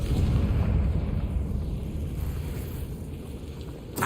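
A Confringo fire spell blasts in Hogwarts Legacy, a loud, rumbling boom that fills the low end and slowly decays over several seconds, with a small burst at the very end.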